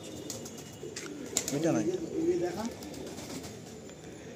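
Pet pigeons cooing in a home loft, soft rolling coos near the middle of the clip under quiet background noise, with someone speaking briefly.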